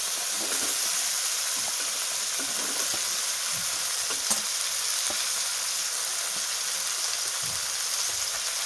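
Eggplant frying over low heat in a pan of mixed vegetables gives a steady, close hiss of sizzling oil with faint stirring scrapes throughout and no speech.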